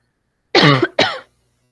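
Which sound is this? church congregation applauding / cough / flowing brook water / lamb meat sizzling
cough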